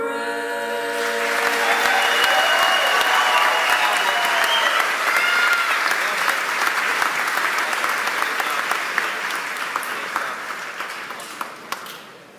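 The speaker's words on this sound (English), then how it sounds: "How about another round of applause for our senior members of our Chamber Singers?" Audience applause at a high school commencement after the national anthem by the Chamber Singers, beginning as the sung final chord fades, then swelling into a full, continuous crowd clapping that gradually thins toward the end.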